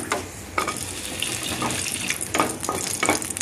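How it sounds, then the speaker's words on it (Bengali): Dried red chilies fry in hot oil in a pan, a crackling sizzle broken by several sharp clinks and scrapes of a utensil against the pan. "তেল দেওয়ার পর মরিচটাকে একটু ভাজে নিতেছি"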